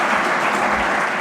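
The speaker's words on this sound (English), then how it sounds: "A big round of applause for our dignitaries." Audience applause greets the dignitaries at the inauguration of a national engineering conference in Solapur, a dense, steady wash of clapping filling the whole short stretch with no talk over it.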